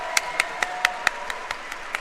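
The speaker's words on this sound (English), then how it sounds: "Big round of applause" Evenly spaced, crisp claps ring out at a Lorcana Challenge card tournament in Lille, roughly four per second and fairly close, over a faint room murmur.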